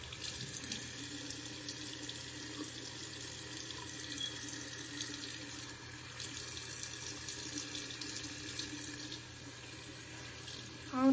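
Water runs from a tap into a sink in a steady, quiet rush, continuous and unbroken, with a slight change in flow near the end.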